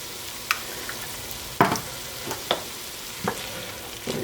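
Tomato paste cooking in a beef soup pot, a quiet low sizzle broken by several sharp spatula taps and scrapes at irregular intervals, close and without talk.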